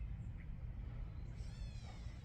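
A cat meows softly once in a garden, a faint drawn-out call rising over low rumbling background noise, no talking.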